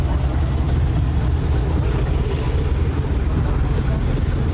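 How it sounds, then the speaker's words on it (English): Loud, continuous engine rumble and road roar as modified cars roll past at a Houston car meet, a dense low drone close by with no clear breaks. "crazy rap cars like this rolling the other way"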